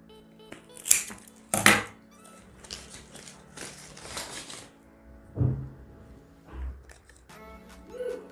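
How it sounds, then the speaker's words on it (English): Scissors snip through money plant stems for propagation, a few sharp crisp cuts separated by pauses, with light handling rustles between them. "We cut another one here like that. Cut another one here."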